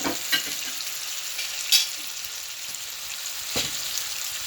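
Scallops sear in hot oil and butter in a pan with a continuous bright sizzle, punctuated by a few light clinks and a soft scrape of a utensil.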